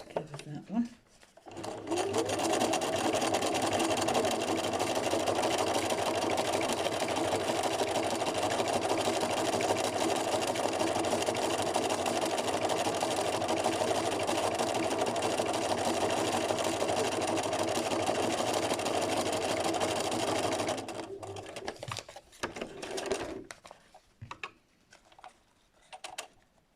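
Sewing machine stitching machine embroidery runs in one steady, close whirring burr for about twenty seconds, then stops and leaves a few soft clicks and handling sounds.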